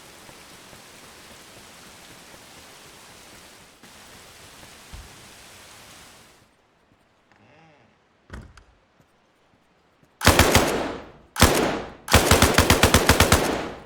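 Gunfire in the game ArmA Reforger, heard as an outdoor burst after steady rain-like noise: a single loud shot, then another, then a rapid automatic string of about ten sharp, loud reports with echoing tails.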